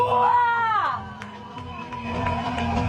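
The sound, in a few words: wedding guests cheering and applauding newlyweds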